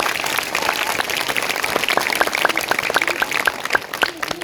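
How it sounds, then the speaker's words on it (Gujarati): Audience applause for school children at a primary school Republic Day cultural programme: dense, steady clapping from a crowd, loud and continuous throughout with sharper individual claps standing out. "તો હજી એક વખત જોરથી એમના માટે તાળી થઈ જાય."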